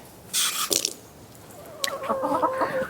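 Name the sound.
leghorn rooster and chickens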